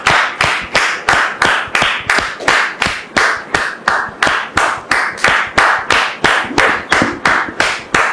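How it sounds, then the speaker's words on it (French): An audience applauds a guest arriving on a studio talk show, rhythmic, loud, close clapping in a steady even beat that carries through without any talk. "Tous nos applaudissements"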